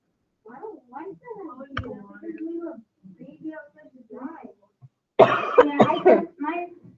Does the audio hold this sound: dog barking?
no